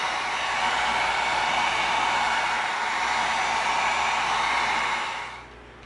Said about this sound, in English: Inside heat seal, because this is where we're going to be gluing.